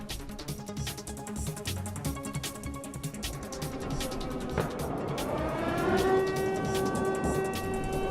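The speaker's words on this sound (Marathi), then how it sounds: "कीवमधले सायरनमधले आवाज देखील व्हिडिओ मोठ्या प्रमाणात व्हायरल झालेले होते" An air raid siren wails in Kyiv at the start of the war, its tone rising and sustained over mixed traffic-like rumble, growing louder toward the end with no speech.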